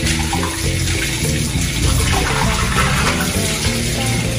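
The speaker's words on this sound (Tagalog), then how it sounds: "banlawan na natin para hindi naiipon" Running water rinses items in a sink, a steady loud broadband splash and gush that continues unbroken for the whole stretch with no voices.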